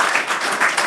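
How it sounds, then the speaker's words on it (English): Brief burst of audience applause for a panel discussion member, dense steady hand clapping from a crowd, fairly loud and close, lasting under a second. "give a big hand of applause to our dagvoorzitter"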